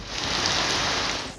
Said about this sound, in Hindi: मरी और गिरदोनवाह में गरज चमक के साथ तेज बारिश के बाद मौसम ठंडा हो गया।